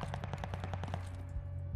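An STG44 assault rifle fires a rapid, steady automatic burst of roughly a dozen evenly spaced shots in the Call of Duty Vanguard video game, then stops, with only a faint hum remaining.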